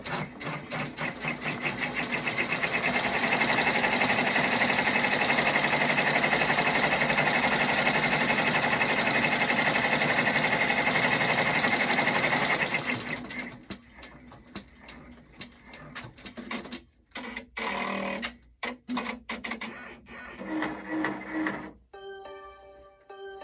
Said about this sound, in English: So I'm going to do the placement stitch again